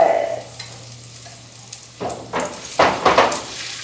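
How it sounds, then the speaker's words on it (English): Vegan Korean dumplings fry in a pan with a soft steady sizzle, broken by a few louder bursts of stirring and scraping against the pan. "So we're gonna just cook these and fry them and nice and crispy like that."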